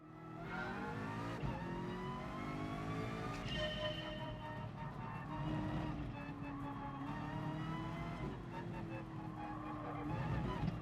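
A race car engine in the Gran Turismo Sport driving game revs and shifts through gears, rising and falling pitch sweeps holding steady and fairly faint, with talk at moments.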